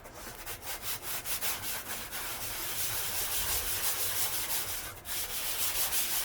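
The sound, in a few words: sanding with 400 grit sandpaper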